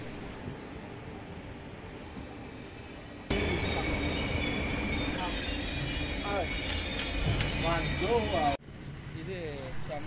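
A train rolls through Gandhinagar railway station in Gujarat, with steady rumbling wheels and metallic squeals rising over a busy platform, murmuring voices and a sudden cut as it passes close by.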